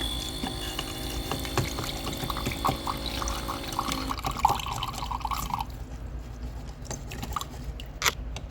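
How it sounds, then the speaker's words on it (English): Water trickles and drips while a brush scrubs the coffee spout of a Philips EP3246 espresso machine, with small close scratches and splashes and a steady machine hum that drops away partway through. "I'm going to use some water and gently brush out the areas here as I water"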